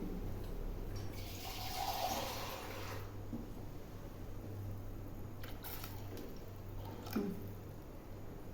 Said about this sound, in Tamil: எனக்கு தேவையான தண்ணி நான் ஊற்றிட்டேன்